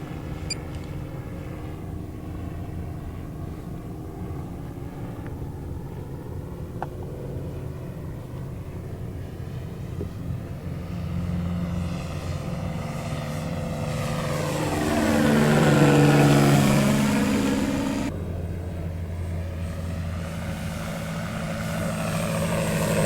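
A radio-controlled Cessna 182 fitted with a sound module makes a low, slow pass, its steady propeller drone swelling and sweeping down in pitch as it passes close, then settling back to a constant hum.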